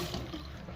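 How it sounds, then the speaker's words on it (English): Cold tap water running into a washed tea kettle, a soft steady pouring hiss, short and fairly quiet, with no talking. "turn the cold water on and gently add some cold water to this tea kettle"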